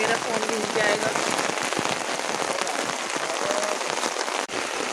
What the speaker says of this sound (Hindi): यहाँ पर आप देख रहे हो कितनी तेज़ बारिश हो रही है।